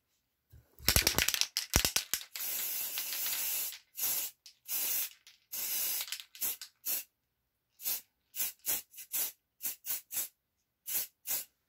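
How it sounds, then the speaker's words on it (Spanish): Hair spray is misted onto a handmade ribbon hair bow, first in a long hissing burst, then in a string of short, sharp spritzes with brief silences between them, close and fairly quiet. "yo aquí ya le puse lo que es mi spray"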